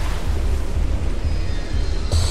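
Rising water in the video game Lethal Company, a steady low rushing and rumbling wash that fills the clip at an even loudness, with a brighter burst near the end.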